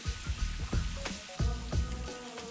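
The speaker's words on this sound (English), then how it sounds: "Add the red and green peppers to the heated oil in the same way and stir a few times" Red and green peppers frying in hot oil for a lamb liver kebab, a steady crackling sizzle broken by several sharp clatters as they are stirred a few times, close and fairly loud, with no voices.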